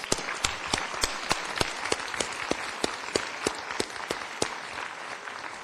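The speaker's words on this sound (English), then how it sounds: "Let's give all our 10 years a round of applause." A conference audience at a college district chancellor's opening session applauds staff receiving ten-year service pins: steady, continuous clapping, with a few sharp, louder claps standing out at a regular, rhythmic pace throughout.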